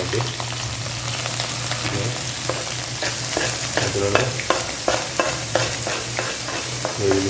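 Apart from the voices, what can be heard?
stirring onions, green chillies and mint frying in pan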